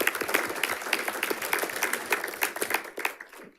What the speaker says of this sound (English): So give Joseph Smith a round of applause